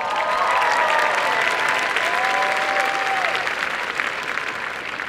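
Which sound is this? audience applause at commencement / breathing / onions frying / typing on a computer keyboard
audience applause at commencement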